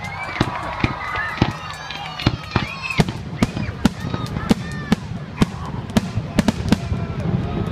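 Illegal fireworks burst in rapid succession, with sharp loud bangs and crackles every half second or so over a constant rumbling background, heard from nearby.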